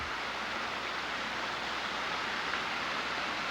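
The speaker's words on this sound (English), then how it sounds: "the water you hear runs coming from that creek over there" Steady broadband rushing of running water, like a creek flowing nearby, continuous and even with no voices.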